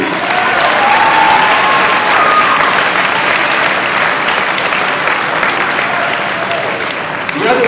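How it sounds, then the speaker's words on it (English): A large school gymnasium crowd at a high school hockey pep assembly claps loudly and continuously, a thick steady roar of applause with some cheering that holds the whole time. "let's get a round of applause for that, please"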